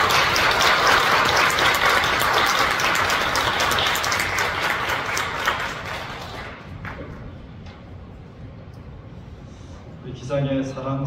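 A church congregation at a Korean Presbyterian Sunday service breaks into warm welcoming applause, a dense, loud wash of clapping that fades and thins toward the end, with a few scattered claps and a voice starting again briefly at the close.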